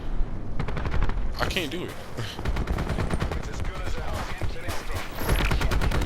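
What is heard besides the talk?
ICR rifle gunfire in Call of Duty Black Ops 4 video game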